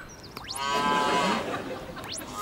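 A cow moos once, a long drawn-out bellow that swells and fades, fairly close and loud, with no talking.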